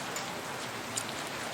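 Rain falls outside a burger restaurant on Jalan Kutilang in Medan, making a dense, continuous hiss. Occasional faint ticks of drops rise out of the steady wash.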